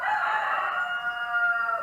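A live rooster crows, one long, loud, drawn-out call that holds steady and fades slightly at the end, heard alone and close.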